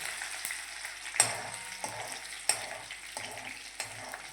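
Green garlic sizzles and is stirred in a hot pan while cabbage sabzi is cooked, a steady fry with a few sharp scraping stir strokes spaced through it, close and moderately loud, with no voices.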